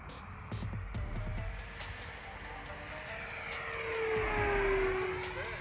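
An RC Phoenix 68-inch Mitsubishi A6M Zero model plane with a 20cc Dual Sky 3500R gas engine passes at full throttle, a loud buzzing drone that swells and bends in pitch as it flies by outdoors.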